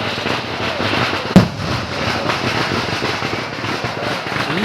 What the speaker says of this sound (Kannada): ಸೈಡೆಲ್ಲ ಫುಲ್ ಪಟಾಕಿ ಹೊಡಿತಿದ್ದಾರೆ ನೋಡಿ. ಫುಲ್ ಸೌಂಡ್ ಮಾಡ್ತಾರೆ.